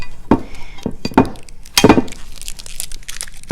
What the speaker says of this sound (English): the sound that the pick makes when you're scraping it